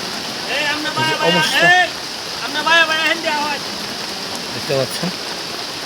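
Heavy rain pours over a cattle market for Eid sacrifice at the Circuit House field in Mymensingh, a steady broadband wash of water that runs throughout while someone talks over it in bursts.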